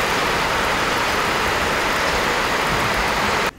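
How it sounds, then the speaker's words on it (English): Heavy rain pours at night over a farmyard as a dense, steady roar of hiss, loud and unbroken, before cutting off abruptly at the very end. "The rain is really coming down now."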